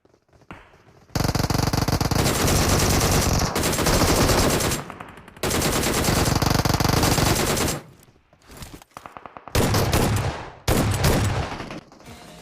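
Loud, sustained automatic gunfire from squads fighting in the BGMI mobile shooter game, with long rapid bursts that stop, restart and end in a few choppier volleys.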